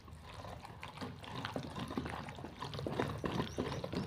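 Water poured into pounded tamarind chutney made the old-fashioned way, a steady trickling splash with faint kitchen clatter, close and fairly quiet throughout.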